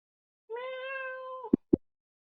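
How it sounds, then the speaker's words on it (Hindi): A cat gives one drawn-out, clear meow close by, followed by two short, sharp knocks; the rest is quiet. "आवाज आ रही है बिल्ली की?"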